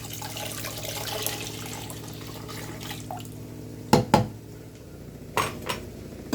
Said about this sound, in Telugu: వాటర్ వేసుకుంటున్నా.